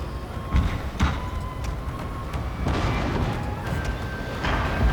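Volley of explosive shells from ship cannons in a Total War naval battle against wooden ships, several dull booms and thuds spread over a few seconds amid a steady rumbling battle ambience.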